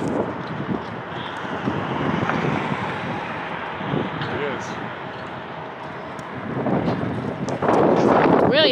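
Strong outdoor wind buffets the microphone with steady low rumble and gusts, rising louder near the end, while people talk over it.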